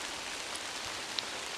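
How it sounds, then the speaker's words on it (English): Heavy rain pouring down in woodland at a camp, a steady dense hiss of drops on leaves and fabric with no break, fairly close and even throughout. "it's pouring that fast now that it just feels like rain"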